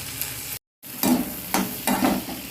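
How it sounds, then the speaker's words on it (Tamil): Guava pieces sauté with salt in a pan for chutney, giving a close sizzle with a few distinct stirring scrapes after a brief silent gap. "இப்போ வந்து உப்பு இதிலே சேர்த்து வதக்க போகிறோம்"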